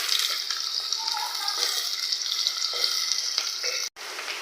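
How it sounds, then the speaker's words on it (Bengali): Chopped onion and garlic fry in hot oil and are stirred, making a loud, continuous close sizzle with scraping strokes, cut by a brief gap near the end. "পেঁয়াজ আর রসুন হালকা লাল লাল করে নেড়ে ছেড়ে নেবো।"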